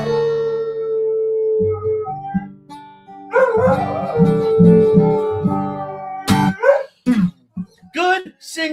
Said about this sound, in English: Got the good dog singing going on tonight.